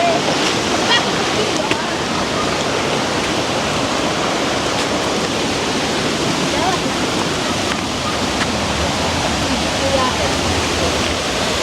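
River water rushing steadily in Westmoreland, a dense, loud continuous roar of flowing water that stays constant throughout.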